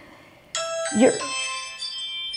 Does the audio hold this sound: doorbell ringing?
yes